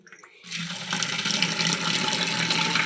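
Running tap water pours steadily over fresh strawberries being washed at a home kitchen sink, starting abruptly after a brief quiet moment and continuing as a close, even splashing rush.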